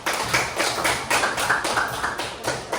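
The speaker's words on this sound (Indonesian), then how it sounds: "Oke, tepuk tangan semuanya." A classroom group of students claps together in a steady, rhythmic beat of about a dozen sharp, close claps, with no talking.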